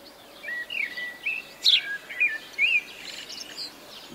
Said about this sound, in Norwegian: Lena, hør så skjønt fuglene synger i dag.